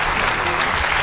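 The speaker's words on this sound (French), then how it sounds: "on peut les applaudir" A theatre audience claps continuously and densely for an improv troupe, close and loud, without any pause.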